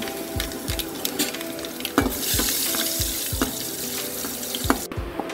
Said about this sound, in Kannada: ಅದೇ ಎಣ್ಣೆಗೆ ಅರ್ಧ ಸ್ಪೂನು ಸಾಸಿವೆ ಹಾಕಿದ್ದೇನೆ ಐದಾರು ಬೆಳ್ಳುಳ್ಳಿ ಹಾಕಬೇಕು